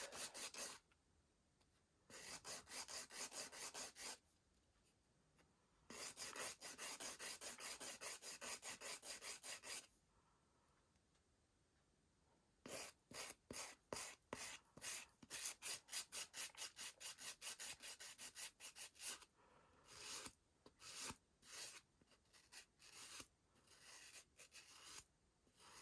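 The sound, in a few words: filing an acrylic nail to taper it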